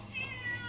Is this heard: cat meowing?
yes